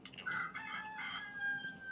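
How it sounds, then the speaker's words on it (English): A toy rooster gives one electronic cock-a-doodle-doo crow, fairly close and clear, lasting under two seconds with no talk over it. "Is that an alarm or an actual rooster? No, it's a toy."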